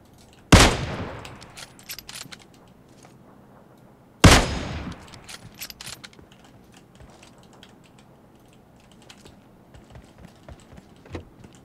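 Gunfire from an AK rifle in PUBG Mobile: two loud, sharp shots about four seconds apart, each with a ringing tail, followed by scattered faint clicks and taps, with no talking.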